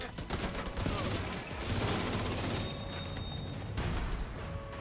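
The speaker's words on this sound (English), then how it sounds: "They just have turrets in there." Turret gunfire in The Division 2's Brooklyn area, a sustained, dense barrage of rapid shots with heavy booming low end, loud and continuous for nearly five seconds.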